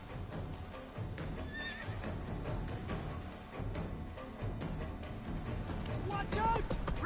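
A horse in The Witcher 3 whinnies amid a busy game soundscape, with hoof clops, clashing effects and voices layered together, and a sharper neigh rising near the end.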